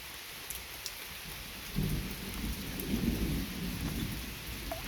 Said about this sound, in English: Listening to the thunder.